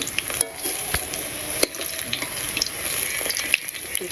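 Pumpkin leaves dropped into a hot pan sizzle loudly and steadily, with stirring scrapes and a few sharp clicks against the pan, close by, no voices.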